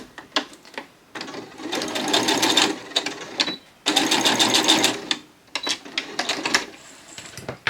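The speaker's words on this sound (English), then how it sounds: "Pop that down and just sew that in." A sewing machine stitches scrap fabric in close, loud bursts of rapid needle chatter, starting and stopping several times with short pauses between runs.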